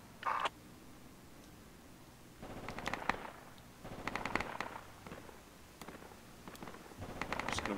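Scattered gunshots in a video game, some single cracks and some quick rapid bursts, fairly distant and moderate in level, spaced irregularly with quiet gaps between them.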